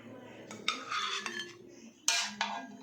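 Metal utensils clink and scrape against a pot and dishes as food with white corn is ladled out to serve, a few sharp chinks over about three seconds, close and fairly quiet.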